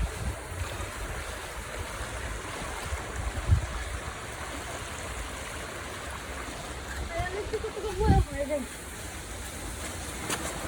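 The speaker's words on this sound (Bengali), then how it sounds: "জোয়ারের সময়ের কারণে পানি এভাবে আসতেছে" Tidal water rushes in at high tide along a Bangladeshi shore, a continuous low wash and surge of water over wind, with two brief thumps and a faint voice partway through.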